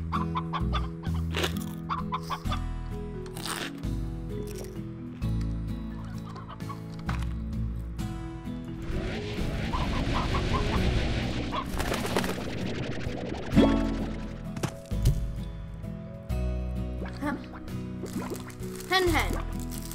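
Hens cluck repeatedly amid Slime Rancher game sounds and music, with a person talking over much of it.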